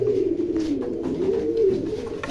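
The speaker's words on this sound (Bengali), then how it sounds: "একটা মাদি কবুতর দিলাম, জালদার, এটা ইন্ডিয়ান জালদার কবুতর।" A female Indian Jaldar pigeon coos nearby in a low, continuous, wavering murmur.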